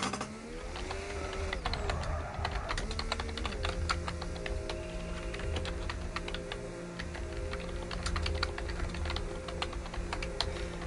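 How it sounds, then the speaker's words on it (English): Rapid keyboard typing clatters steadily throughout, with dense irregular keystrokes over a background of racing-game engine drone and shifting tones, no voices. "As you can hear the typing, that's me trying to defend the driver"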